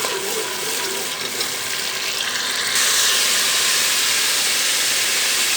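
Tomato paste fries in a pan, a loud, close, steady sizzle and steamy hiss that swells even louder partway through as it keeps cooking.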